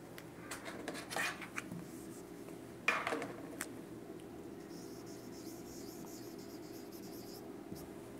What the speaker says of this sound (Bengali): আমি এখানে লিখে দিচ্ছি ইন ভিট্রো কালচার।